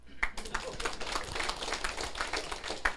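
An audience at a lecture hall session claps in a dense, continuous patter of many hands, fairly faint and mixed with some voices.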